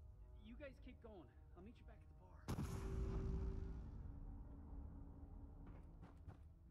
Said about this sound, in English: Oh, I still hear them shooting.